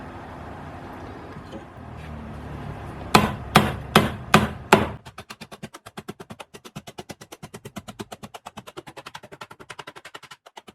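Hammering sheet metal in a home workshop without a panel hammer: five loud, ringing strikes spaced about half a second apart, followed by a long run of rapid, lighter, evenly timed taps.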